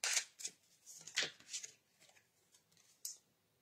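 Tarot cards being shuffled by hand during a reading, a burst of crisp riffling and slapping close up, then scattered softer flicks and one last snap, no talk.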